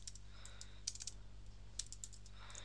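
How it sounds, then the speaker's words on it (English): Typing on a computer keyboard in Windows 7, a brief run of irregular light key clicks, fairly quiet over a steady low hum, with no voices. "in here type in"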